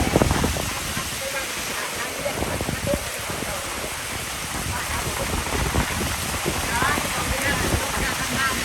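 Rain falls at night in a steady, dense patter that fills the whole stretch, while people talk loudly over it close by.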